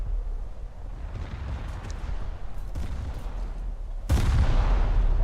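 Naval artillery rumbles in War Thunder during a battle at sea, a low, constant boom-laden roar with a sharp, louder blast near the end, heavy and close, with no voices.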